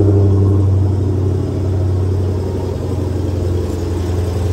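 A 707-horsepower 2016 Dodge Challenger Hellcat's engine rumbles at a steady, loud cold-start idle, deep and continuous throughout with no voices.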